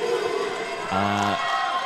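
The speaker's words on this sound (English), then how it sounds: "you can hear the Singapore support in the crowd going wild" Singapore supporters cheer in a crowd at a World Cup match against Switzerland, a dense roar of many voices with a brief louder shout rising partway through.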